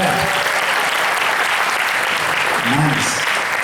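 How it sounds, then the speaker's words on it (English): Sustained applause from a workshop audience at a Jain community session, a dense, even wash of many hands clapping at steady loudness, with a voice briefly audible near the end. "Come on, give a round of applause for that."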